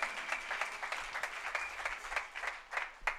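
A church congregation claps in praise, a quick, dense patter of many hands that keeps a fairly even rhythm for a few seconds, heard from a moderate distance.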